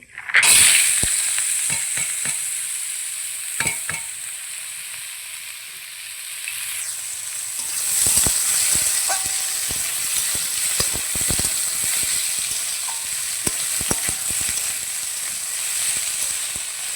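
Kohlrabi frying in hot oil, a loud steady sizzle with scattered clinks and scrapes of a spatula stirring it in the pan, close up with no talking.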